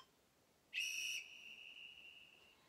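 A single sharp, shrill whistle blast signals the end of a workout interval for a shoulder and balance session, loud and close, then trails off into quiet room tone.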